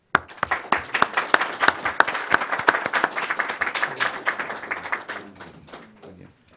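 Audience applause for panel speakers at a discussion on the Mexican left, a burst of sharp hand claps that builds quickly, holds steady, then thins out to scattered claps and fades.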